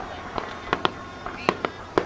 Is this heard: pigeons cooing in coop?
no